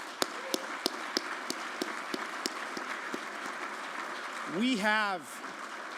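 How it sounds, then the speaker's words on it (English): Conference audience applause, a steady spread of clapping with a few sharper nearby claps, ending as a voice starts speaking. "Let's give them a round of applause."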